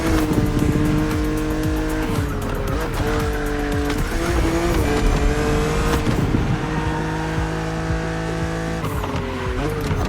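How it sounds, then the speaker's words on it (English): A BMW Z roadster racing in The Crew Motorfest: a loud, sustained engine drone shifts pitch through gear changes, with tire squeal and skidding layered over the continuous roar for the whole stretch. "BMW Z models are what we call roadsters. 2-seaters made for relaxing behind the wheel, appreciating the scenery and the thrill of speed"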